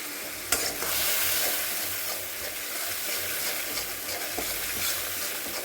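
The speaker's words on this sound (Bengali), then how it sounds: "নিয়ে আমি ওই তেলে দিয়ে দেবো। একটু ভালো করে একটু ভেজে নেব।" Turmeric spice paste, mixed with a little sweetener, sizzles steadily in hot oil while being stirred, a close, continuous frying hiss with faint scraping for a taro (gathi kochu) curry.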